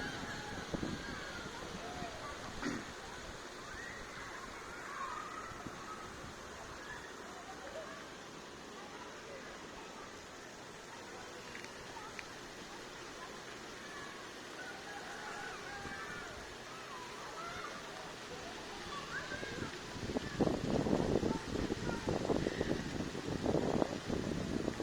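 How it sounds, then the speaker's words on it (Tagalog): Steady rushing water from an infinity-style waterfall at Banao Resort in Candon City, a broad continuous roar with a louder, choppier surge near the end; people can be heard chattering in the background. "Infinity Falls ng Banao Resort."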